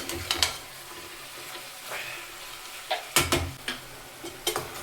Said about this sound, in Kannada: ಈ ಥರ ನೀಟಾಗಿ ಚಿಕನ್ನು ನೀರು ಬಿಟ್ಟು ನೀರು ಸುಂಡೋವರೆಗೂ ಫ್ರೈ ಮಾಡ್ಕೊಳ್ಳಿ